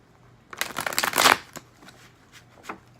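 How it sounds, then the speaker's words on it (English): A deck of tarot cards is shuffled by hand, a rapid riffling flurry that builds loud and close, then gives way to a few softer scattered card flicks. "I'm going to go ahead and shuffle the deck"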